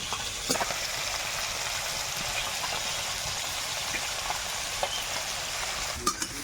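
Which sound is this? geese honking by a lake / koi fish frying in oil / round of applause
koi fish frying in oil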